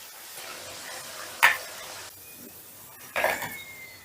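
Marinated soybean chunks going into hot oil in the same pan used for frying potatoes, a quiet, low sizzle broken by two sharp bursts as pieces hit the oil.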